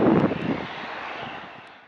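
Airplane taking off from Lodwar airstrip in Turkana, Kenya: a loud, broad engine roar that is strongest at the start and then fades steadily, with some wind rumble and no voices.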